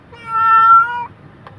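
An injured cat, wounded in a bite, gives one clear, loud, drawn-out tonal meow lasting about a second. A short faint sound follows, and no one speaks.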